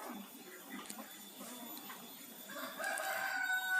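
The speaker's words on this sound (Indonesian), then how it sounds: "ayam jantan ya, karena memang di sekitar saya ini di tengah perkampungan, jadi masih banyak yang memelihara ayam-ayam kampung." A rooster crows in a village where free-range chickens are kept, rising toward the end as a fairly loud drawn-out call over steady outdoor background noise.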